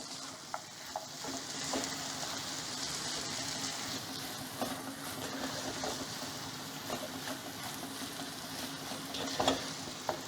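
Beef roast with pepper, fennel powder and curry leaves is stirred in a hot pan, giving a steady close sizzle broken by scattered scrapes and clicks of the spoon.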